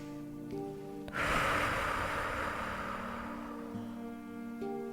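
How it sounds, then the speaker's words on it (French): One slow, deep breath is drawn and released during a sleep relaxation exercise, a soft airy rush over steady, gentle background tones. "Nous pouvons reprendre quelques grandes respirations."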